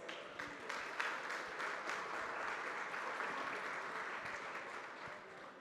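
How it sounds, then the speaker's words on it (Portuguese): Audience applause welcoming a public-management and finance specialist onto the stage at a conference, a steady wash of clapping from a crowd indoors, sustained and fairly even throughout with no voices over it. "Vamos receber com muitos aplausos o professor Carlos Kerbes."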